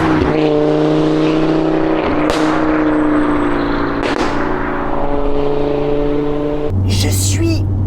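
Audi RS3 8P, a 420 hp five-cylinder, driving with a steady engine drone and a couple of sharp exhaust pops and crackles, near and loud, with people talking over it.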